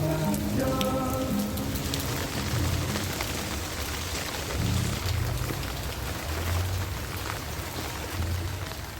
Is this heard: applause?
no